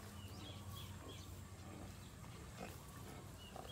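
Pigs in a pen, a sow lying down nursing piglets of mixed sizes, giving low grunts and faint squeals over a quiet, steady farm background.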